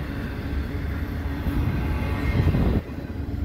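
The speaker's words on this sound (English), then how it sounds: "It's a CN double stack, racing the CP's double stack" CN double-stack freight train passing at Dorval at night, a loud, steady rumble of rolling wheels and cars close by, cutting off sharply near the end.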